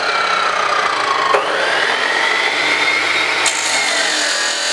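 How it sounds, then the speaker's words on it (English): A miter saw cutting through wood during a homemade go-kart build, a loud continuous whining buzz of the blade biting into the board, steady and close with a slight pitch shift. "Go ahead and throw it on the miter saw now."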